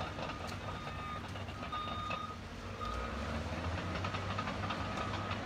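Bulldozer working on a beach sounds its reversing alarm, a steady series of faint, distant beeps over a continuous low engine rumble and ambient outdoor noise.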